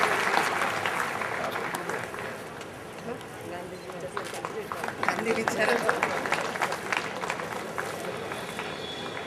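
Audience at a college function in Parbhani claps steadily, with a speaker's voice heard over the applause much of the time.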